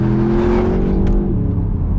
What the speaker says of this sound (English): when you do put it into Sports Plus, you can hear the warble of that V8.